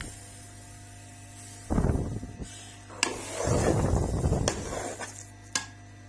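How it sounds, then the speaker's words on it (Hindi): Eggs being stirred into grated carrot halwa in a pot, with scraping, clinking spoon-on-metal bursts in two stretches over a steady low hum, close and fairly loud. "तो ऐसे हमने एग अब डाल लिए हैं, अच्छे से मिक्स करेंगे"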